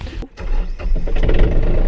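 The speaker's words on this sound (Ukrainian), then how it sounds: "Тракторець у нас запустився." A Yanmar RS-330 tractor engine cranks with a brief stutter and catches, settling into a loud, close, rough diesel idle.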